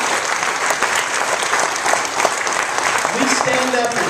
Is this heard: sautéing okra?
no